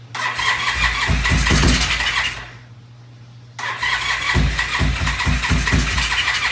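A gold motorbike engine cranks and catches with the choke on, running loud and rough, cutting out briefly, then restarting and chugging with uneven pulses.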